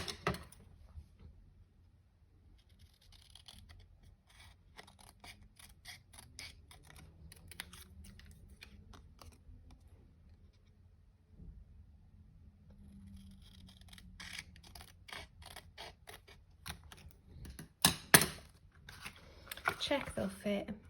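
Card pieces for a tuxedo-style greeting card are trimmed with small, crisp clicks and snips in irregular clusters, quiet and close, rising to a few sharper cuts near the end.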